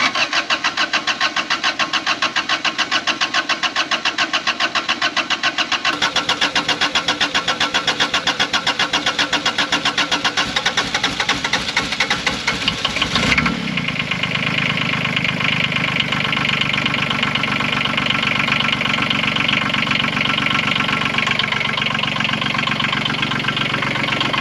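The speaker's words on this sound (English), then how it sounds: "My dad put a diesel engine in a golf cart." A diesel engine fitted in a golf cart clatters steadily in a rapid, knocking idle that carries on throughout, with the tone shifting partway as if started or adjusted.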